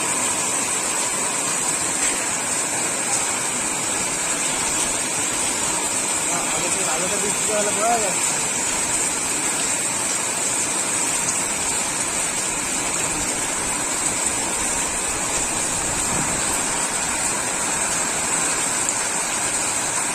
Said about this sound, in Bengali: তোমরা শুনতে পাচ্ছ নিশ্চয়ই বৃষ্টির শব্দগুলো